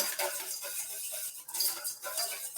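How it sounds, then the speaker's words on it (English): Quick rhythmic clicks of a small whisk against a bowl as a vinaigrette is beaten, close and bright, a steady patter of metal-on-bowl strokes with no voices. "So let's just whisk it."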